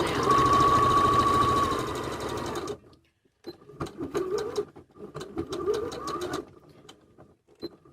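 A sewing machine stitches two different fabric prints together for a bucket hat, whirring steadily in close runs broken by a short stop and brief pauses.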